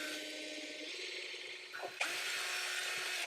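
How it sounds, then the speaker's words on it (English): Power drill boring a hole in a wall, a steady whirring motor with a brief change in pitch before it surges louder again, close by and alone. "we gotta drill a hole in the wall"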